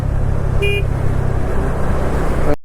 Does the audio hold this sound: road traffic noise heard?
yes